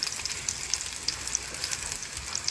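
Ground turkey meatballs sizzle steadily in a frying pan, a close, continuous crackle with small pops scattered throughout and no voices.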